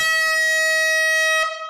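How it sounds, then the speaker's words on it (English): A single loud air horn blast sounds a steady, brassy tone for over a second at a live vinyl record sale, then cuts off abruptly. "We've only blown one air horn."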